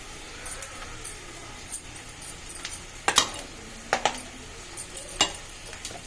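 A spoon stirs a festival dish for Sri Rama Navami in a metal pot: steady soft scraping and sizzling, broken by sharp clinks and scrapes against the pot at irregular moments, close by, with no talking.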